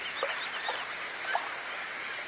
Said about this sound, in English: All these birds in a station.